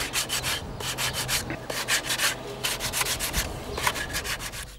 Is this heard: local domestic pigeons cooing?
no